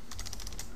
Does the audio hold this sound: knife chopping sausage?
no